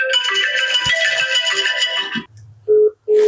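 An incoming call's ringtone plays loud and close as a repeating melodic phrase, then breaks off; after a short pause two brief tones follow.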